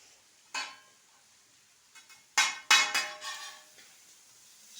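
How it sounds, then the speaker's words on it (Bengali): A metal spatula clanks and scrapes against a pan while chowmein is tossed with seasoning, giving a few irregular, fairly close metallic knocks and clatters with quiet gaps between them. "সব দিয়ে আরেকবার ভালো করে নাড়াচাড়া করে নিতে হবে।"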